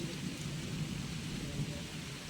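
Heavy rain pours steadily in a dense, unbroken hiss with a low rumbling undertone, loud and constant throughout with no voices.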